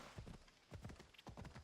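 Horse hooves clip-clop at a steady riding gait in Assassin's Creed Odyssey, quick clustered hoofbeats in a continuous rhythm, fairly faint.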